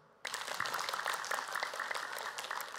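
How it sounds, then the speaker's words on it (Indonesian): Applause from a studio audience at an Islamic religious talk show starts abruptly and fills the space with dense, steady clapping, no talking over it. "Mana tepuk tangannya?"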